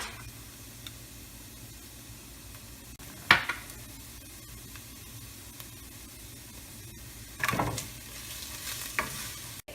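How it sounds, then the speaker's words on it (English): Browned onions frying with ginger garlic paste in a pan for chicken tikka masala, a steady soft sizzle with a few louder scraping stirs near the middle and end. "And then let it fry for some more time."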